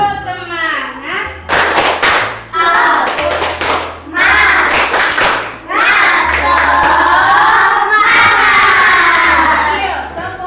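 A primary school class standing up to clap the 'tepuk semangat' chant: rhythmic bursts of group clapping mixed with loud children's voices chanting and shouting along, close and energetic throughout.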